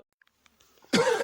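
A single short, close cough bursts out at the end after near silence and a few faint clicks.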